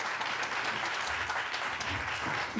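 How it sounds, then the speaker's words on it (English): Wedding guests applaud after a ceremony moment, a dense, steady wash of clapping that holds evenly for the whole stretch at a moderate distance. "I think a big round of applause there."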